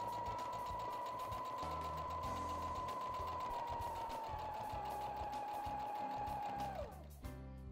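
A sewing machine runs steadily for about seven seconds, stitching closed the side seam of a homemade pet cushion, a loud even whir that winds down and stops near the end, with no talk over it.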